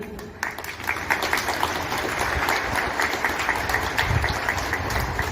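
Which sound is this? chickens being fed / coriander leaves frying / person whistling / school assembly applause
school assembly applause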